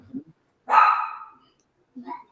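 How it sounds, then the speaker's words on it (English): Several dogs bark close by in a home: one strong, full bark flanked by shorter, softer yips and whimpers, loud and without talk. "I apologize for my dogs."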